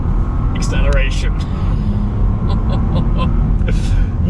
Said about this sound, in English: when you do have the best part of 630 horsepower, there's no escaping this kind of acceleration